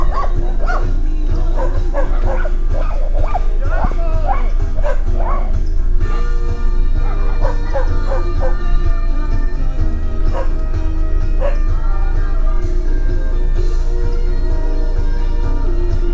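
A small dog barks in repeated yapping bursts through the first half, then more sporadically, over steady road or engine rumble along the Estrada Real between Carrancas and Cruzília.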